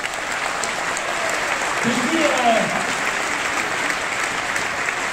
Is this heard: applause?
yes